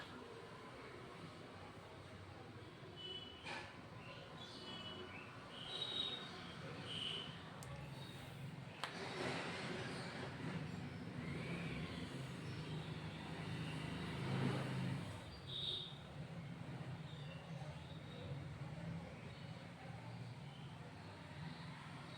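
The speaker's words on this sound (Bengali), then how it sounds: "এই ট্যাঁ ট্যাঁ করে যায় রাস্তা দিয়ে গাড়ি ঘোড়া" Road traffic with cars and other vehicles passes outside a home kitchen, a faint, steady rumble heard from indoors with occasional louder swells and brief higher tones.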